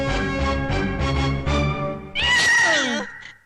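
A cat lets out a long, loud, strained yowl that rises and bends in pitch near the end, following a stretch of steady, droning tonal sound.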